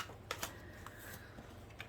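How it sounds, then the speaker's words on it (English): Tarot cards handled by hand without shuffling, giving soft rustles and a few light taps and snaps against a faint background hiss. "Just juggling the cards today, not bothering to shuffle them."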